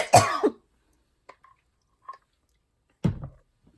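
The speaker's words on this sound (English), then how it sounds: "You get on video and you start coughing." A single person coughs and clears their throat sharply at the start, then a quiet pause with small faint sounds, then another brief cough near the end.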